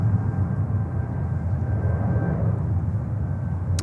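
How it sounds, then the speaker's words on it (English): An Air China Cargo Boeing 777 at JFK airport roars steadily with a loud, broad engine rumble that holds constant throughout, no voices present. "Air China Cargo 777"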